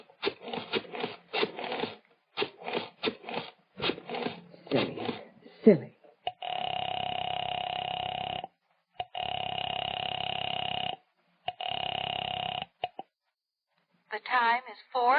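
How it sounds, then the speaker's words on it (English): A telephone in an old radio drama: a voice speaks briefly, then steady electronic telephone tones sound in several long, even bursts split by short silences, ending in a warbling tone. "went to the phone and dialed"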